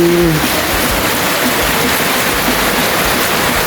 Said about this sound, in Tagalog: At grabe ang ulan, buhos na buhos po yung ulan, no?